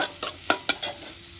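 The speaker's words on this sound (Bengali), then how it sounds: "পেঁয়াজটা আমার হালকা লাল হয়ে গেছে।" Onions frying in a pan, a soft sizzle marked by a few sharp spoon strokes in quick succession.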